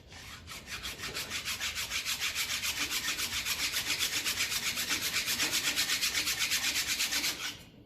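Whetstone rubbed back and forth over a metal part from a 1957 Ferguson 35 TVO tractor engine, a close, quiet, rhythmic scraping with rapid even strokes that runs steadily for several seconds and then stops.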